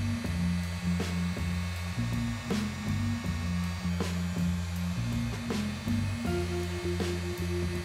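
A heat gun blows steadily while shrinking a solder sleeve over joined wires, a continuous airy whir with a low motor hum and small pitch steps throughout, fairly close and alone.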